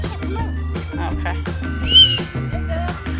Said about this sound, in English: Why do you blow the whistle?